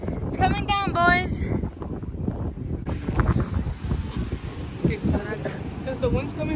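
Wind buffeting the microphone at the beach, a rough, gusting low rumble that persists throughout, with people talking over it and a voice early on.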